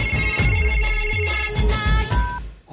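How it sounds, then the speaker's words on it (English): A telephone rings on an outgoing call in a comedy film scene, with repeated electronic ring tones in a steady rhythm, loud and close, alone without talk. "Let's call her. It's ringing!"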